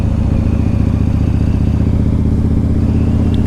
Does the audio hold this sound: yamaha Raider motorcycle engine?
yes